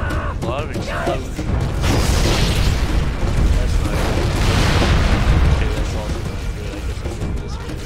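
Explosions rumble in Halo: Combat Evolved played on PC, a sustained loud booming roar with crackling debris swelling over several seconds after sharp mechanical clicks at the start.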